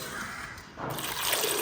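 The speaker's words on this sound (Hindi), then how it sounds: "और इसके अंदर हम डालते हैं पानी।" Water pours into a pressure cooker in a home kitchen, a steady close splashing that rises in level partway through, heard alone.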